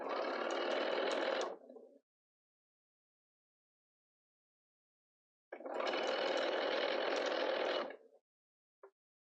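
A sewing machine stitches a short reverse backup at the start of a 1/2 inch seam on a market bag, running in two steady bursts of about two and five seconds separated by silence, then a faint click.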